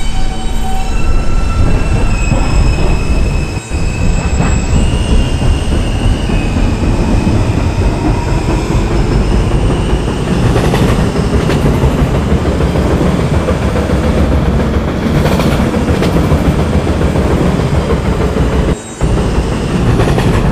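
New York City subway R train runs at night on the N line toward Bay Ridge, a loud continuous rumble of wheels and car noise with squealing and clicking rail joints, nearby and steady.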